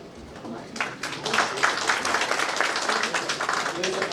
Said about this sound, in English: There's a clapping for you